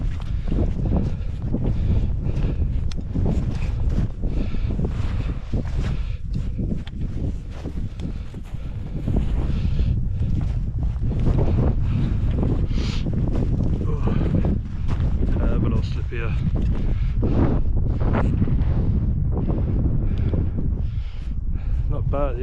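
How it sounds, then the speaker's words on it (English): Strong wind roars steadily across a hillside hiking path between Llyn y Fan Fach and Llyn y Fan Fawr, buffeting the microphone loudly and continuously throughout with no break. "At least the wind has calmed down a bit."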